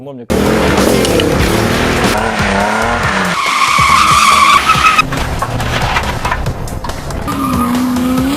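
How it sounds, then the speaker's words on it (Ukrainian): An amateur race car skids with tires squealing in long rising and falling screeches over loud engine roar, close and sustained throughout, with no talk. "Я занимаюсь любительскими автогонками."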